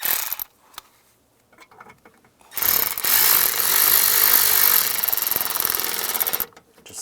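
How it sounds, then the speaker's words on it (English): A screw is driven into a dashboard panel of a 1999-2005 Volkswagen Jetta, first a few light clicks and handling taps, then a loud, sustained whirring power-driver burst lasting about four seconds before it stops. "The screw that goes right there. Put that in and tighten it down."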